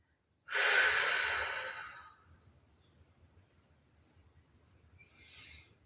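Deep breathing during a Pilates recovery stretch, one long close exhale with a soft airy rush, then quiet faint breaths and small sounds as the stretch is held.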